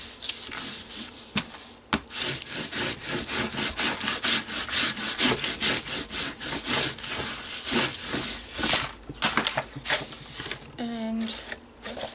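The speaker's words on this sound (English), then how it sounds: "Now we'll do the same to the other side. Let's burnish that." A paper postcard cover is burnished with quick, repeated rubbing strokes in a steady scratchy rhythm, close and fairly loud, with a brief voice near the end.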